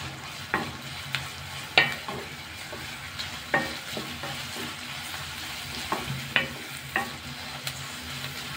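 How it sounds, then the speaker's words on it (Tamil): Onion, crushed garlic and curry leaves sauté in a pan for drumstick kara kuzhambu, a soft continuous sizzle broken by several sharp spoon scrapes and taps against the pan, without any voices. "வெங்காயம் நல்லா வதங்கி வரட்டும்"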